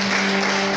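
A church congregation breaks into a dense, steady burst of applause acclaiming God, the clapping filling a short moment over a low steady hum.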